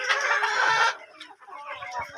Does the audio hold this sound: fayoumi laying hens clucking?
yes